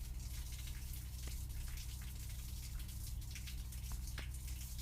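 Water rinsing a car hood in the garage game My Garage, a steady hissing spray that runs continuously with a faint low hum beneath it and no talking.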